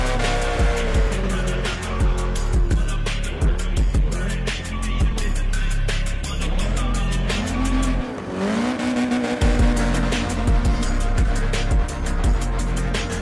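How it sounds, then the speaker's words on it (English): A turbocharged race car spins its wheels and drifts at a racing event, its engine roaring loud and continuous while the tires squeal through a long slide. "That turbo creating massive wheel spin, 10 points off the bat, and a little slide for 30 points."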